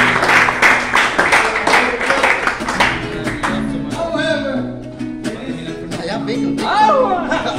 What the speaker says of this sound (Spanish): aplauso para el padre.